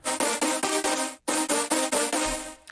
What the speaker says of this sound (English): So the setting we're using is Brass Ensemble.